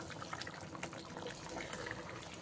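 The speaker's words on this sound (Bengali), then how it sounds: "এবারে আমি এখানে ভেজে রাখা মাছগুলো দিয়ে দিচ্ছি" Fried rohu fish being added to simmering gravy with raw papaya, a short run of close bubbling and liquid splashing that continues steadily without talk.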